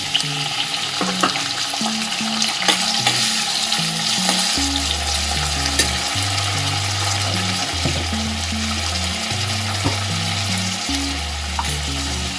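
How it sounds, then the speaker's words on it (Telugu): Onions and tomato fry in hot oil for a chicken fry gravy, giving a continuous crackling sizzle with occasional stirring, heard over steady background music. "ఆయిల్ వేడి చేసి ఆనియన్ వేసేసేయాలి."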